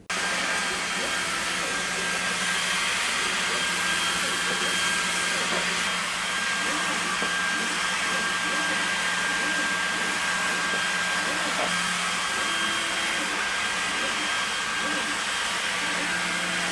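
A laser cutter works through leather, giving a steady whooshing, fan-like roar with a low hum that runs unbroken and fairly loud throughout, with no voices.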